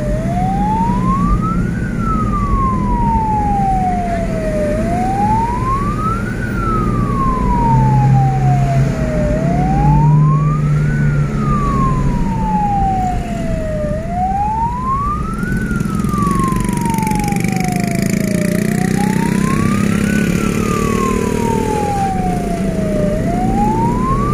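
An ambulance escort's siren on a dark night road wails in long, regular rising and falling sweeps, loud and close, over a low engine rumble.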